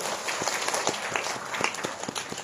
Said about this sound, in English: And I think that deserves your clap of praise to God.